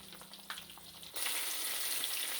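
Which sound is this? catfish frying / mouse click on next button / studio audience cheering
catfish frying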